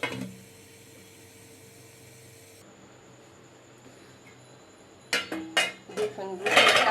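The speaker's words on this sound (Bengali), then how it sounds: "এখন এটার উপরে বসাই দেবো তারপরে ঢাকনা দিয়ে দেবো" A pan set on a stove and then covered with a lid: a quiet stretch of faint background hum, then several sharp metallic clanks and scrapes close by near the end, with no talking.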